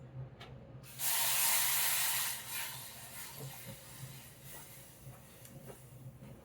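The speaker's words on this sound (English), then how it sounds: "That was the sound of me adding roughly 4 times as much water as there is rice." Water poured into a pan of toasted risotto rice, a steady rushing hiss that surges for about two seconds and then settles into a softer sizzle and bubbling with scattered clicks.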